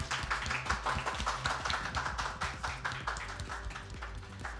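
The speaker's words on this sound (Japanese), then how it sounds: "もう一度盛大な拍手をお願いいたします。" An audience at the Champion Festival motor racing event in Nikko claps steadily in a sustained round of applause after an esports award, dense and continuous for several seconds.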